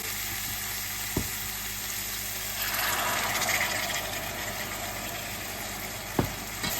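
A pan of chicken tikka in curry sauce sizzles and bubbles steadily as base gravy goes in, a continuous hiss that swells briefly midway, with two sharp clinks of a utensil against the pan.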